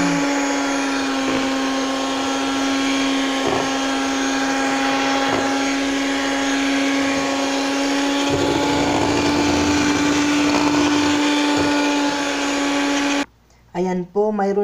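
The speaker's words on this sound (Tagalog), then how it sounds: "hand mixer. Ihalo na natin yung condensed milk at saka yung whipping cream pagkatapos natin i-whip yan." Electric hand mixer whipping condensed milk and whipping cream for homemade ice cream, a steady loud motor whine with a constant tone running for about thirteen seconds, then cutting off as a voice briefly speaks.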